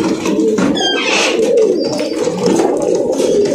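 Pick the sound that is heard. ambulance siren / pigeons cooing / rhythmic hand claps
pigeons cooing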